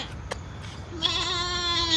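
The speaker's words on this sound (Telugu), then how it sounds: "మేక అరుతుందా" A goat at a zoo gives a single loud, close bleat with a wavering, sustained tone, following a brief quieter stretch of background noise.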